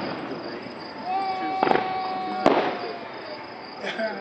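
Fireworks bursting in a grand finale display, heard as a couple of sharp distant bangs over a steady outdoor background of insect-like chirping, with people talking nearby.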